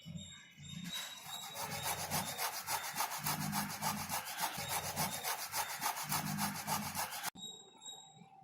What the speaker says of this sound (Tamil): இப்போ காய் சீவுறதை வச்சு சீவி எடுத்துக்கலாம்.